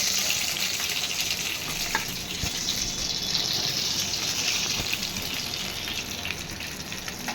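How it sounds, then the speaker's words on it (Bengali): Soybean fritters frying in oil in a wok, a steady close hiss and bubbling sizzle that holds evenly throughout with no talking. "বড়াগুলো দুপাশটা ভালো করে ভেজে নিয়ে আমি কড়াই থেকে খুব সাবধানে আস্তে আস্তে নামিয়ে নিলাম"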